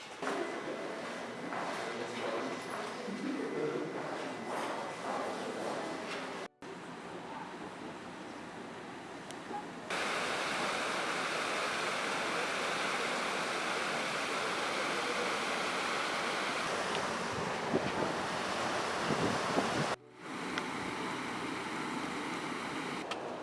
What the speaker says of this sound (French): L'eau que vous voyez là qui court, qu'on entend, c'est l'eau qui retourne à la Mayenne.